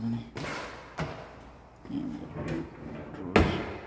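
Drawers in a house's kitchen pulled open and pushed shut, a few sharp thuds and slides at close range, with a person talking in between.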